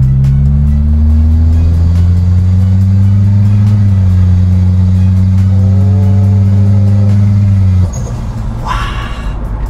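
Toyota Innova 2.0G petrol engine with an aftermarket turbo holds a loud, steady rev for several seconds, its drone stepping up in pitch partway through, then drops off sharply, followed by a brief hissing turbo flutter as the throttle closes.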